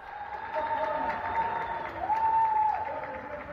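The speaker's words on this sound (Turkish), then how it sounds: "Başkent Saraybosna'da balkonlarına çıkanlar sağlık çalışanlarını uzun süre alkışladı." Residents on apartment balconies in Sarajevo clapping for health workers, a distant, diffuse patter of many hands echoing across the city, steady and faint, with a sustained tonal hum or whistle running beneath it.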